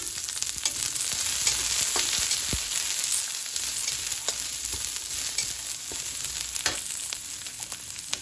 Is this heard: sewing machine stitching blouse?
no